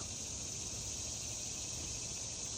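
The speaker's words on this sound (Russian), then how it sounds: "А сейчас такие сверчки чешут." Crickets chirp outdoors in a dense, unbroken high trill, steady and moderately faint, with no talking.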